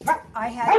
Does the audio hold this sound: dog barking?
yes